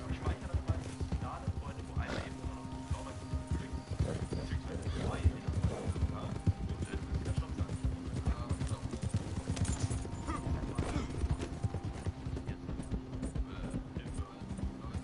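Horse hooves clip-clop in Red Dead 2, a busy run of uneven hoofbeats carrying through the whole stretch, with a neigh now and then and a steady game background underneath.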